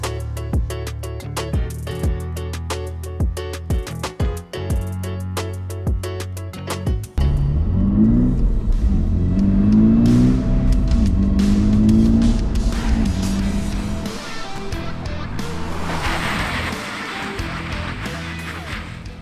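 Cars brake hard on a test surface comparing a budget tire with a Bridgestone tire, with loud close engine roar, rumbling tire noise and drawn-out squealing skids that swell and fade over several seconds.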